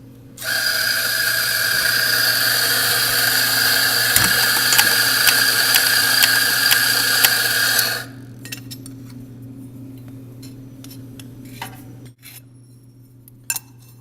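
A coffee grinder grinding whole beans whirs loudly and steadily for about eight seconds, then cuts off, leaving faint clinks and scraping rattles in a quieter room.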